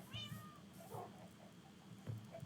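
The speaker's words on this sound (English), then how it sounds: "Kitty noises?" A cat meows in the Minecraft video game, a couple of clear, drawn-out mews over a low background hum, fairly quiet with no talk over them.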